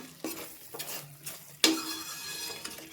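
Chili powder and salt being stirred into a masala for dhaba-style paneer butter masala: a few spaced spatula scrapes and knocks against the pan over a faint sizzle, close by.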